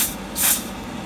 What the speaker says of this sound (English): if I just put a little bit of freeze spray on this chip right here